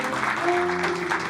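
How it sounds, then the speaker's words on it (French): A studio audience claps for a guest arriving on a French TV talk show, a steady, dense wash of applause with a faint tonal hum beneath it, lasting only a moment. "On peut l'applaudir bien fort."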